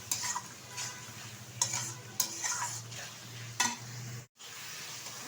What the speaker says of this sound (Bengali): আবারও আমি নেড়ে চেড়ে নেবো বেশ কিছুক্ষণ সময় নিয়ে।